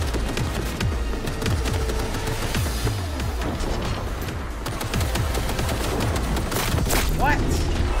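Gunfire during a firefight in Cyberpunk 2077 Phantom Liberty, with dense bursts of shots and booms that keep going under a player talking excitedly.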